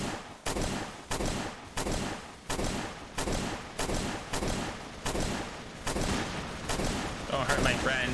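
Gunfire in the Roblox game Zombie Rush, a rapid series of loud, evenly spaced shots repeating for several seconds, with a brief pause near the start.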